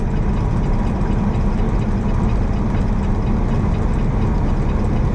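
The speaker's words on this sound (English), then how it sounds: "But company truck, we got the Cummins X15 efficiency engine in here, 500 horsepower" Idling Cummins X15 efficiency diesel engine, 500 horsepower, in a company truck, a steady close low rumble with a constant drone and no change in pitch throughout, no voices.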